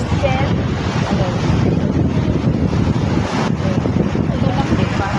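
Loud, steady wind buffeting the microphone over the continuous wash of sea waves, with no clear breaks.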